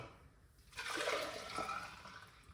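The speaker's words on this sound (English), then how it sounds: "Let's pour out it into this one" Green juice is poured into a container. A soft, close liquid splash and gurgle begins after a brief quiet moment, then continues steadily and fairly faintly.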